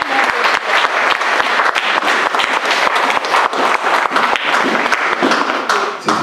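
A church congregation bursts into sustained applause, dense steady clapping from many hands filling the room for several seconds before tapering slightly at the end.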